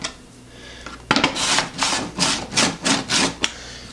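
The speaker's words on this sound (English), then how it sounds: "It looks like you might be able to sharpen these blades, but it does cut the red pepper." Rolling five-blade kitchen slicer run back and forth over a red pepper, giving about eight loud, close raspy strokes in quick rhythm after a short quiet start, with no talk.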